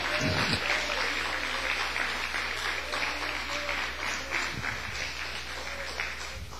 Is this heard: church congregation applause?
yes